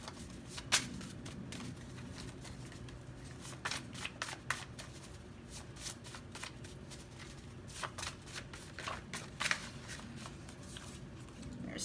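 A deck of pick-a-card reading cards is shuffled steadily for about twelve seconds, a soft continuous papery rustle broken by sharper riffling snaps, close but quiet.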